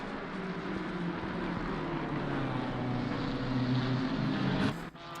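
Racing car engines roar continuously in a sim racing game at Mount Panorama, a steady droning blend of several cars, loud and sustained, ending with a brief dip near the end.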